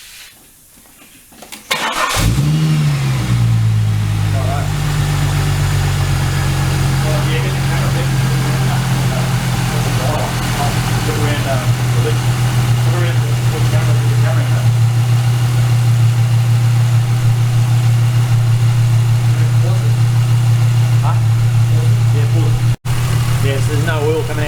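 Supercharged VY Commodore engine cranking briefly, firing up, then settling into a steady, loud, low idle that runs on continuously.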